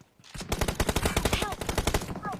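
Rapid automatic gunfire from the mobile battle-royale game PUBG Mobile, a dense loud burst of shots in quick rhythm lasting about two seconds, with a brief quieter lead-in and no talk over it.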